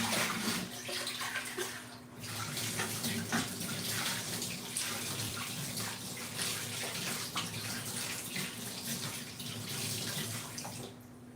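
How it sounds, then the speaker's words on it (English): Running tap water rinses a bowl while making bean cakes, a continuous splashing rush into a sink with small shifts as the bowl moves under the stream, close and steady throughout. "Just rinse it off and keep it by the side."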